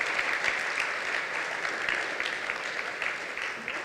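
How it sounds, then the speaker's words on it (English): Audience applause at a charity event as young people walk up to the stage, a soft even patter of many hands clapping, somewhat distant and steady. "please give them a round of applause as they come up to the stage"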